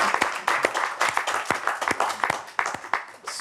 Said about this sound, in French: Sous les applaudissements nourris de l'autre équipe et du public à Paris